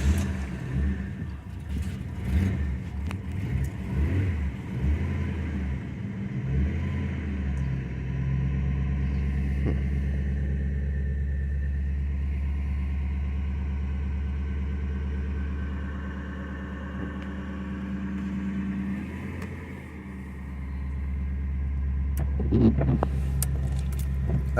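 A Ford Crown Victoria with a faulty idle air control valve is held on the gas by hand, its engine rumbling in a low, steady drone that rises slightly at the start and again near the end, with metallic rattles early on.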